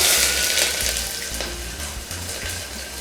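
Chopped onions with mustard seeds and fenugreek fry in hot oil, giving a loud, dense, continuous sizzle at close range with a few faint knocks from the pan; no voices.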